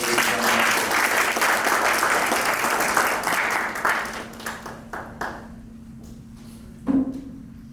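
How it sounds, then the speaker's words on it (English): Audience applause after a jewelry appraisal at an antiques appraisal event, a dense wash of clapping that swells loudly, then thins out and dies away into a few scattered claps near the end. "Give her a round of applause."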